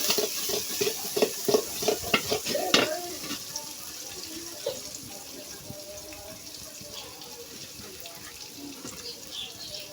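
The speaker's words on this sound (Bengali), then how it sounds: "বেরেস্তাটা করে নিচ্ছি বন্ধুরা।" Sliced onions for birista sizzle in hot oil and are stirred, with scraping utensil clatter loud at first, then settling into a quieter continuous frying hiss.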